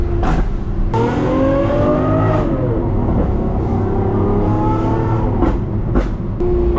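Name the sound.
Gintani-tuned Lamborghini SVJ engine revving on a downshift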